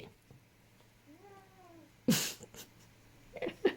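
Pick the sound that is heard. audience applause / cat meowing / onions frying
cat meowing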